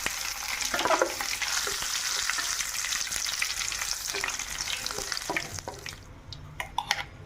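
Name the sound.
tempering with crushed shallots frying in a pan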